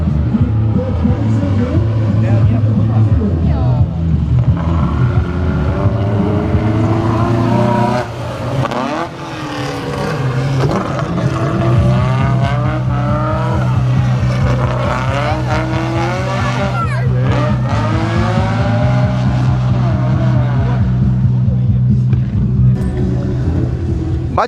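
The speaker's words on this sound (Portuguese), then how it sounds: "O pessoal acelerando, tá surpreendendo ainda." V8 cars rev hard on a race track during a track day with burnouts and drifting, engines roaring loud and continuous with sweeping pitch rises and squealing tires throughout.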